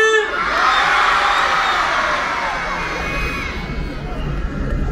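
A concert crowd at a show in Perm roars and cheers loudly, with shrill whoops and yells in a sustained, dense wall of noise that slowly eases.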